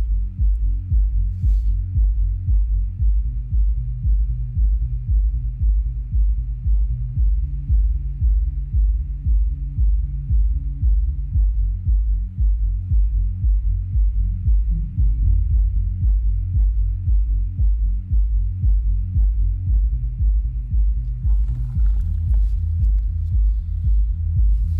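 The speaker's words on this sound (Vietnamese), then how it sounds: "Nó đánh ồn ồn ồn ồn ồn nghe rất là đã anh em nha" A Jamo SW410e subwoofer plays deep, throbbing bass in loud, steady, evenly spaced pulses that repeat without pause throughout.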